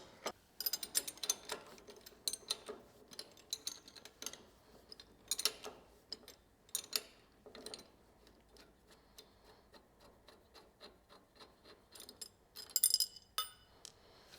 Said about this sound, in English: Now I remove the pull rod for the other side.